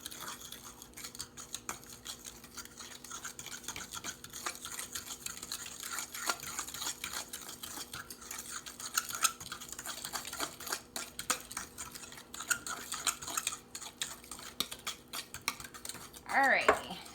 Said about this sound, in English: So I've cracked my 2 eggs. We're going to go ahead and get those mixed in